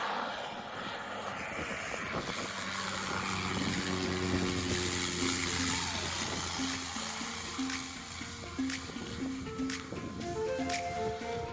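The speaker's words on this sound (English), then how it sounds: "this seaplane making a water landing right by our boat" A seaplane's propeller engine drones nearby as it lands on water beside a boat, pitch wavering as it throttles down, with a rushing, splashy wash underneath.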